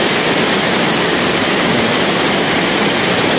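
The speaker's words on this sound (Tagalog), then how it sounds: "Ibang lakas ng ilog na dito." A flooded river rushes with great force, a loud, unbroken roar of churning water filling everything with no pause, close and overwhelming.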